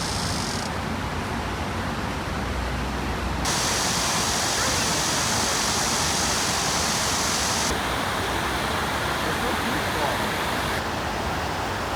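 Stream water flowing, a steady broadband rush that stays loud and continuous throughout, with no talk.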